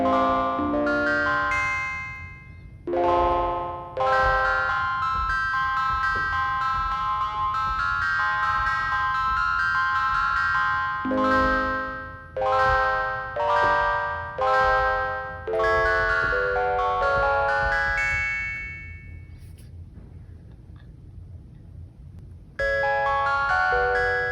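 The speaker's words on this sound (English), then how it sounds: "We have like a nice kind of metallic bell sound here without turning this too high up." Metallic, bell-like FM tones played polyphonically on a Sequential Prophet-6 synthesizer, a sequence of chords and notes with bright struck attacks and ringing decays, loud and clear with no talking.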